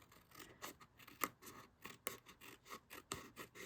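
Repeated snips of scissors trimming patterned 12 by 12 craft paper for a fold card, a steady run of crisp cuts with a few sharper clicks, close and alone.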